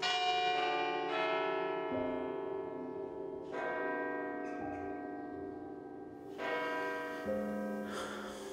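A church bell rings steadily, its strikes recurring every couple of seconds with long, sustained metallic overtones that hang and fade, alone and fairly clear with no talk.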